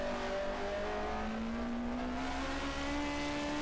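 A 1979 DRM Division 2 race car at the Salzburgring downshifts and brakes for a tight right-hander, its engine note a fairly faint, steady drone with a slowly shifting pitch.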